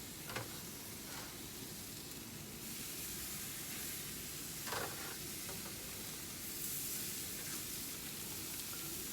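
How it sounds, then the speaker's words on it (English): Soft, steady sizzling hiss of T-bone steak on a hot grill, fairly quiet, with a few faint pops and crackles scattered throughout. "Listen to that sizzle."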